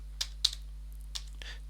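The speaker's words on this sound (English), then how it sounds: "tab key to autocomplete to make typing a bit quicker" Computer keyboard typing with the tab key pressed during genome comparison work, a handful of crisp, separate key clicks spaced irregularly over a low steady electrical hum.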